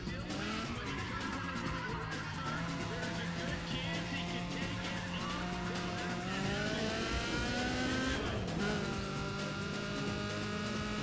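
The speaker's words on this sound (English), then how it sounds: "I love this engine sound, it's amazing." Race car engine in Need for Speed ProStreet droning loud and steady throughout, with harmonic pitch rising and dropping through gear shifts and tire squeal mixed in.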